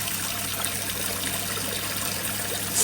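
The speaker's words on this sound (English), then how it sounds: "then flush with boiling water again." Boiling water is poured down a blocked sink drain after baking soda and vinegar, a continuous close trickling and gushing of water that stays steady throughout with no voices.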